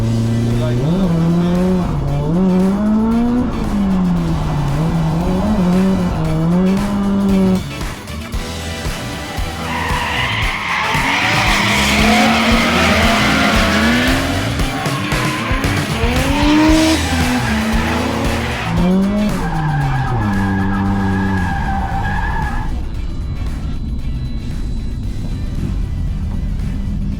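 A McLaren drift car skids around a track, its tyres squealing in long, loud sweeps as the engine revs rise and fall nearby. Wind-like roar and voices run underneath.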